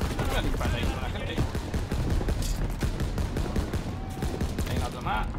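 Rapid bursts of automatic gunfire in Call of Duty WW2, set during the Battle of the Bulge, crackle in quick repeated volleys, with other shots and a voice talking over them.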